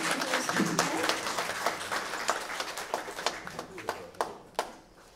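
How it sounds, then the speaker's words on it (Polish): Audience applause at a patriotic evening ceremony marking Polish Independence Day, starting as dense clapping and thinning into scattered individual claps as it fades out. "Raz jeszcze wielkie brawa."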